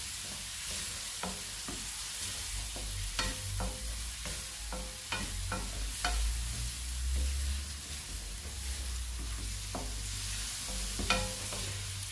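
Black pasta with cuttlefish stirred in a frying pan, a low sizzle under scattered scraping clicks from the utensil, repeated irregularly and fairly close, with no talking.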